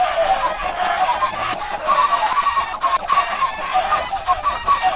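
Many chickens on a Minecraft farm cluck and squawk in a dense, overlapping, continuous chorus that stays loud throughout.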